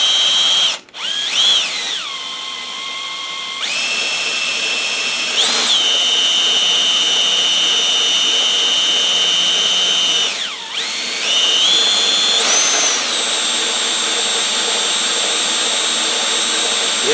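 A power drill spins the gears of a KitchenAid washing machine, a loud, steady high whine that shifts pitch several times as the speed changes, with brief dips and surges.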